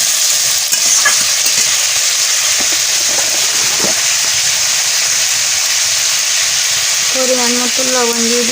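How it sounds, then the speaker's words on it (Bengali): Crab sizzles in hot oil in a pan, a loud, steady frying hiss with occasional stirring clatter, and a voice briefly talks near the end. "কাঁকড়াটা সুন্দর করে ভেজে নেব।"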